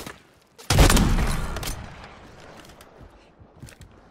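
Mortar fire in a Call of Duty Rebirth Island match: one heavy, close boom that rolls off into a long, fading rumble, with faint game noise after.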